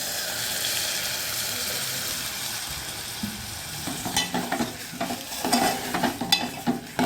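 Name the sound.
sautéing onion with turmeric and field beans in pan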